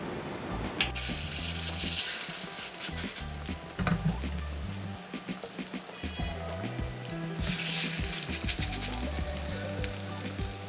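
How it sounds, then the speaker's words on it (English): Schnitzel frying in a hot, well-greased pan with plenty of fat, giving a steady crackling sizzle throughout with bursts of spattering and clinks of cookware, close by with no talk. "make sure that your pan is well greased and the temperature is high, like ready to sizzle"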